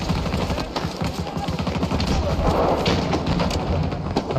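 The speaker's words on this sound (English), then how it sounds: "The gunshots are very prominent." Video game gunfire played through a Cloud III wireless headset: rapid bursts of automatic shots and thudding impacts in a busy, loud continuous stream.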